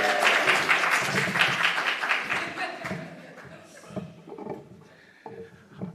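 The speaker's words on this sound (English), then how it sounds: "Please give him a round of applause." Audience applause for a speaker being introduced at a conference talk, a short burst of clapping that fades over a few seconds as a voice talks over it.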